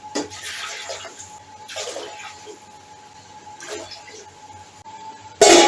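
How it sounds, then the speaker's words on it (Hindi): Water pours in several separate bursts into a cooking pot while preparing rice for Hyderabadi tahari, each splash lasting about a second with short pauses between, ending in a louder rushing stream at the close. "3 से थोड़े से ज़्यादा डालूँगी पानी।"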